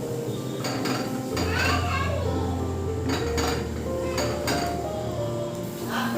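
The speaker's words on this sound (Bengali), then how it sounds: "চিনিটা দিয়ে ভালোভাবে মিশিয়ে দেবো" A metal spoon clinks and scrapes against a pan as sugar is stirred into sweet-sour hog plum (amra) chutney, giving bursts of sharp metallic knocks and chinks at close range.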